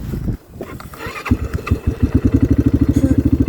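A motorcycle engine cranks and fires up in sub-zero winter cold, starting with uneven sputters and then settling into a loud, rapid, rhythmic idle close by.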